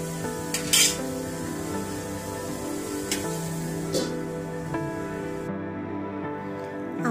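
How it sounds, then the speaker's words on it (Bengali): Cabbage frying with spices in a pan gives a steady, close sizzle with occasional stirring scrapes, under soft background music. "বাঁধাকপিটাকে 2 মিনিটের মতো ভেজে নিলাম"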